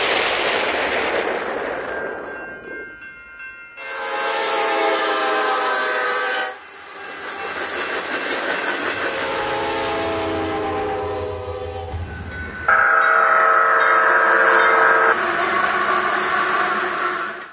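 A freight train runs along a US railway line in a small town, its horn blowing in several long, loud blasts over a steady rolling rumble, with a brief lull between passes.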